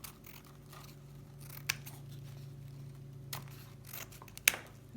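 Scissors trim the ends of a pipe cleaner and ribbon on a Christmas tree decoration. Two or three crisp snips stand out against a quiet background hum, with faint rustling between them.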